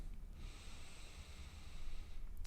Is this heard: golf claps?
no